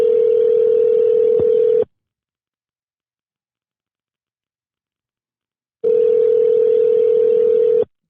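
A telephone line tone plays as a call is placed: a loud, steady tone lasting about two seconds, a pause of about four seconds of silence, then the same tone again.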